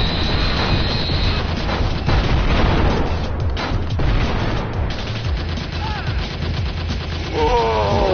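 Sustained gunfire rattles through the PSVR arcade shooter Operation Warcade, a dense, continuous barrage of shots and explosions layered over game music, with a few brief electronic tones standing out near the end.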